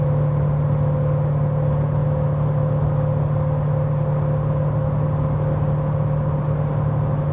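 A Porsche cruises in fourth gear at about 2,200 RPM on a highway, a steady low engine drone with a constant hum and road rumble, loud and unchanging throughout.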